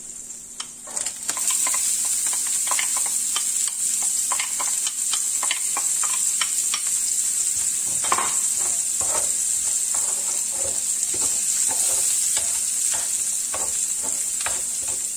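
Chopped onion sweating in oil in a pan for paella, a steady bright sizzle with repeated close scraping stirs, with a constant high whine running underneath and no talk.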